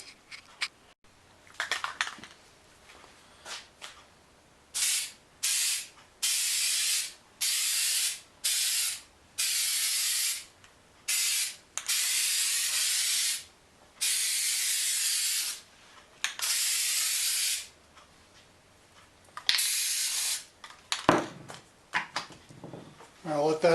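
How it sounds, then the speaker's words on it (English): A spray paint can hisses in repeated short bursts of one to two seconds over lower window trim on a Ford Ranger B4000, close and fairly loud, with rattling and handling noises at the end. "We'll give this a good shake and then spray this down"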